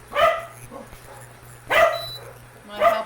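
Three short bursts of dog barking from the speaker's pet helpers, moderately loud and spaced about a second and a half apart, over a low steady hum in a kitchen.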